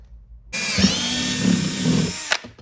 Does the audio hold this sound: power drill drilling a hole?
yes